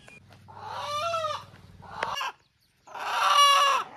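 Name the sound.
rooster clucking while being held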